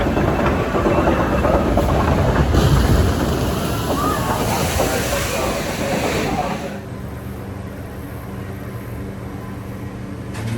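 The Snake River Falls water ride at Cedar Point splashes with loud rushing, sloshing water and mechanical rumble, easing to a quieter wash after a few seconds.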